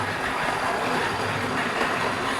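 DC analog model railway train running on a layout track, a steady dense rumble and clatter of wheels over rails, continuous and fairly close with no voices.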